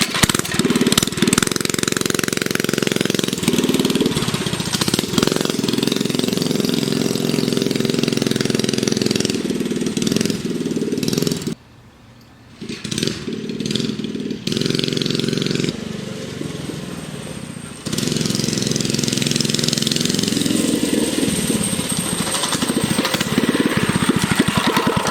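A Motovox mini bike engine with a faulty carburetor that won't hold idle runs loudly and steadily on a test drive, its buzzing drone dipping briefly mid-ride before revving back up.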